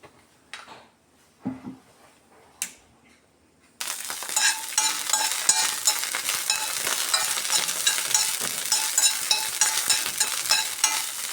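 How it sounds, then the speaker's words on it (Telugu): Broccoli dropped into hot ghee in a pan: a few sharp clinks and taps, then a sudden loud, steady sizzle that crackles continuously to the end, close and clear with no talking. "స్టవ్ మీద ప్యాన్ పెట్టి ఒక స్పూను నెయ్యి వేసి స్టవ్ బాయిల్ అయిన తర్వాత ఫస్ట్ బ్రకోలీ యాడ్ చేస్తాను."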